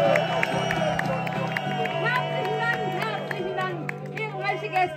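A live audience at a medieval castle concert cheers, whoops and claps loudly as a folk band takes the stage, over crowd chatter and a sustained musical drone.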